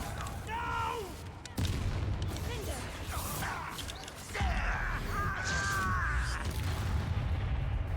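Glacius and Bombarda spells are cast in the video game Hogwarts Legacy, giving loud blasts and crashes with whooshing magic effects over continuous game noise.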